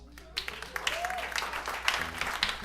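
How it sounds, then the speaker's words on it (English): A stand-up comedy audience bursts into steady, dense applause that keeps going, with a voice briefly heard over the clapping. "Give yourselves a round of applause"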